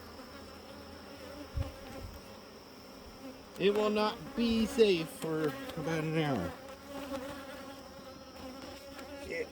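Honeybees buzz around a tended hive outdoors, a steady insect drone running throughout beneath a voice that speaks over the middle stretch.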